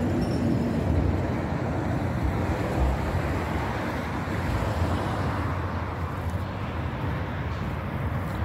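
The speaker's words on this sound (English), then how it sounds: "Pretty cool train." A train passes through a park, a steady low rumble with broadband rolling noise that holds for about eight seconds at close to moderate distance, with no talking.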